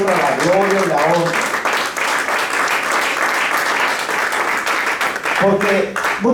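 A church congregation breaks into loud, sustained applause, a dense wash of many hands clapping throughout, with a voice talking over the start and end.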